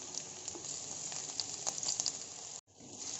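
Chopped onions and chopped ginger fry in hot oil for khar bhat, a steady soft sizzle and crackle that cuts out abruptly for an instant before resuming.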